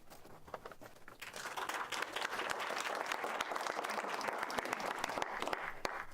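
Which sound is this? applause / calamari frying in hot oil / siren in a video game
applause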